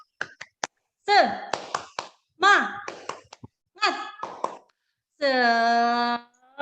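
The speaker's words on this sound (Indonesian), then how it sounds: "Kita tepuk semangat." A teacher leads a rhythmic classroom clapping chant, sharp claps and snaps in short patterned bursts mixed with her spoken and sung syllables, ending on a long held sung word, close and clear in a quiet room.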